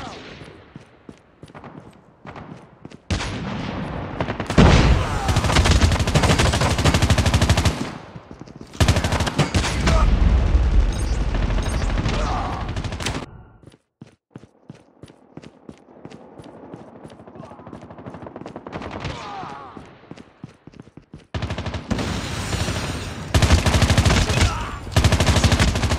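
Bursts of automatic gunfire from the mobile shooter Call of Duty Mobile, loud and sustained in several long volleys separated by quieter gaps, with a player's voice calling out during the fighting.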